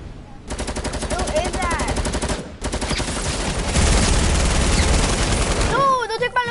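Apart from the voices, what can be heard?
gunfire in an online shooter video game on PS4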